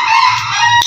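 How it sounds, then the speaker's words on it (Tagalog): A chicken kept at a house gives a loud, close, drawn-out squawking call lasting about a second, with no talking over it. "yung manok na yan. Ang kulit."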